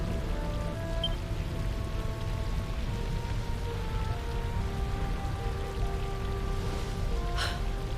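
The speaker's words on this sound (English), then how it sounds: "Rain falls." Even, continuous rainfall patters on a surface, accompanied by soft sustained musical tones and a brief brighter splash near the end, in the video game Dragon Quest XI on PS4.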